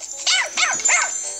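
Three close, sharp yapping barks from a Jack Russell cross in the Nintendogs + Cats video game, evenly spaced with no other sound behind them.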